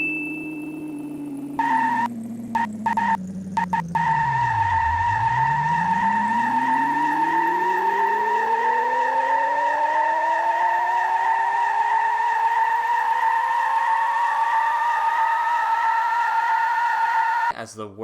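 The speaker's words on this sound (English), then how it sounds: "The game is called Vroom in the Night Skies, and pretty much has you riding around as a witch on a magical motorcycle" A magical motorcycle from the Nintendo Switch game Vroom in the Night Skies hums with a synthetic engine whine that dips low and then slowly rises in pitch, steady and loud, with a few brief stutters early on and no talk.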